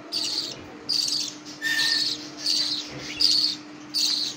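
Pet budgerigars, one blue and one yellow, chirp in repeated short bursts of bright twittering about every half second, close by over a steady low hum, with no one talking.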